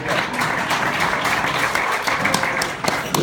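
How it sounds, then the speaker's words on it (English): Sparse, half-hearted clapping from a small audience at a comedy show, a steady light patter of hands over about three seconds with no standout bursts. "The worst clapping of my whole career."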